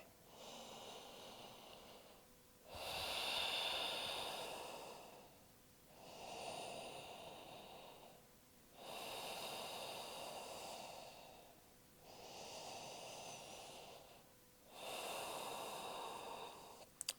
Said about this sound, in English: Take 3 rounds of breath here.